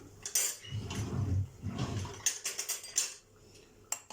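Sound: covering a pot of brewing green tea with a lid

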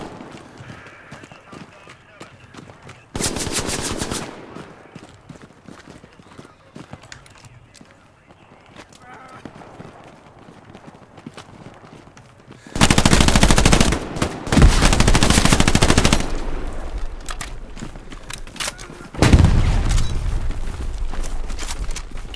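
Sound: gunfire in the video game Hell Let Loose

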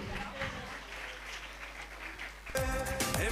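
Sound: applause

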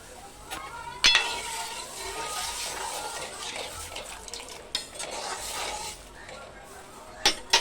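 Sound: tempering spices into cooked dal (lentils)

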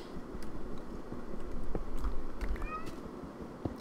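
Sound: cat meowing in the video game Minecraft

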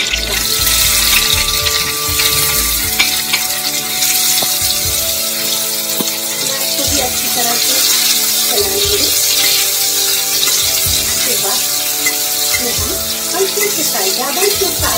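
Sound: garlic and chopped onion frying in oil

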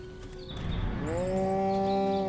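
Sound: cows mooing in the video game Destroy All Humans

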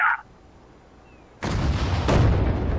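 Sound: self-propelled gun firing in the video game Sudden Strike 4

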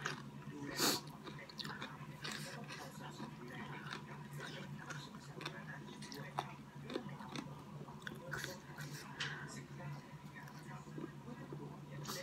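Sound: crunchy chewing of fresh vegetables

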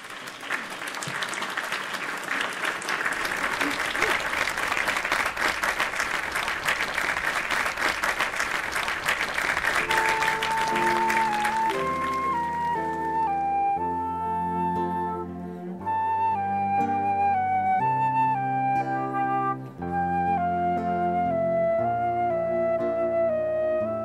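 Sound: audience applause for a singer at a live show

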